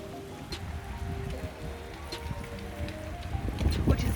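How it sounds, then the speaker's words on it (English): Rain falls on a Toyota Hiace campervan as a steady patter of drops on the body with a soft continuous wash beneath, growing slightly louder toward the end. "Like this rain."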